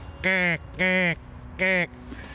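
A human voice mimics the nasal call of the coastal rain crow with three drawn-out, buzzy honking notes, each about a third of a second long and evenly spaced.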